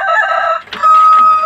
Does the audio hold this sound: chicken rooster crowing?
yes